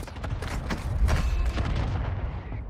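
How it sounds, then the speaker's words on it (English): Mortar strike in the mobile shooter Warzone Mobile, a cluster of heavy booming impacts in quick succession over a couple of seconds, loud and close, fading to a rumble at the end. "Mortar strike inbound now."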